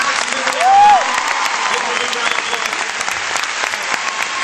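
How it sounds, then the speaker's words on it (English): Audience applause for performers at a Christian music tour concert, steady crowd clapping with a brief shout early on, carrying on evenly to the end. "So give them all a big round of applause."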